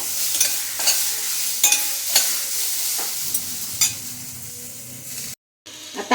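Amaranth leaf vegetable frying in a pan with a constant hiss, as a spatula stirs it in irregular scraping strokes near the microphone, followed by a brief silence near the end.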